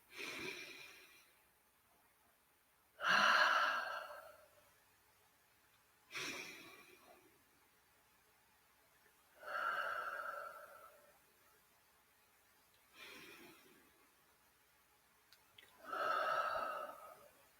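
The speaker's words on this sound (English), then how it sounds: "take 3 deep breaths" Deep, slow breaths are drawn in and let out in a calm relaxation exercise, each one a soft airy swell separated by quiet pauses, close and alone without any talk.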